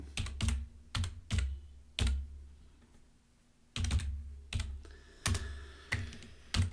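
Python code typed on a computer keyboard, quick clusters of crisp keystrokes with short pauses between bursts, close and alone in a quiet room.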